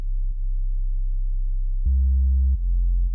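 A drop bass synth from a drum and bass production plays as a clean, deep sustained tone that shifts to a louder, higher note partway through and then drops back, steady and alone with no talking.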